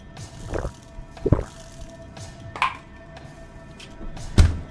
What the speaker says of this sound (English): Drink my water.